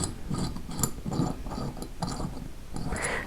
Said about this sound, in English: I do that by undoing the screw here at the side, again using my little screwdriver handle.